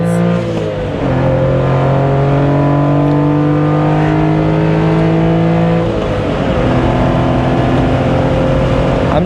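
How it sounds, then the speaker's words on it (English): A Honda Beat's small engine drones steadily and loudly from inside the car while driving near Zion National Park, its pitch rising through gears with a shift around mid-clip before climbing again. "We're just gonna start driving."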